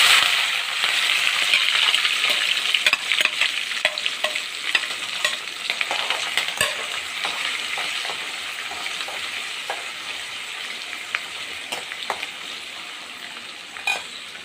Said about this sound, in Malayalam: കടുകൊക്കെ പൊട്ടിക്കഴിയാറായി. ഇഞ്ചി, വെളുത്തുള്ളി, കറിവേപ്പില നമുക്ക് ഇട്ട് കൊടുക്കാം.